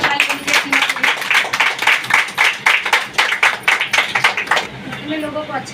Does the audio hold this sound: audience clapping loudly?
yes